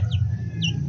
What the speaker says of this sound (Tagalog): kita nyo guys, oh, uhaw na uhaw yung bagi na manok.